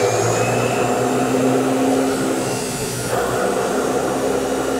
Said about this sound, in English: now we can go over to the chop saw and make those cuts.